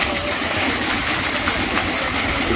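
A 3-inch scale Lysander Button live steam fire engine pumps water with a steady, dense mechanical chug and hiss, close and fairly loud throughout.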